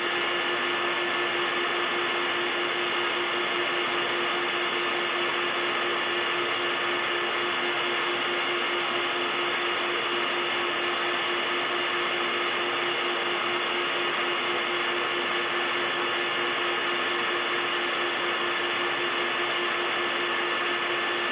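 Hair dryer blowing with the heat switched off, used in a propulsion test; a steady, unbroken airflow roar with a constant motor whine, unchanging for over twenty seconds.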